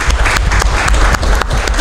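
Sustained audience applause at a book launch for a security lexicon, steady dense clapping from a seated crowd filling the room at close range, with no voices over it.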